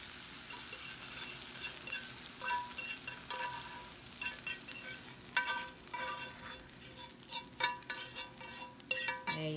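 Onions fry in a pan for liver and onions, with a close, continuous sizzle broken by scraping stirs and the odd clink of a utensil against the pan.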